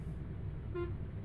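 A bus horn in an Indian bus simulator game gives a short honk near the middle, over a steady engine and road rumble, fairly close and moderately loud.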